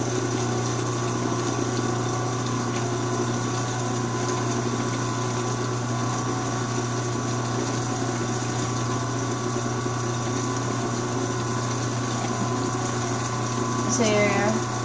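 A mixer runs steadily, blending oil and water layers into a lotion emulsion, giving a constant motorized hum and liquid churn that holds at an even level throughout, with a brief rise near the end.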